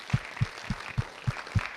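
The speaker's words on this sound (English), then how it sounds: "let's give Taylor a round of applause" Six evenly spaced claps at an athletic signing event, each short and fairly quiet, in a steady rhythm of about three per second.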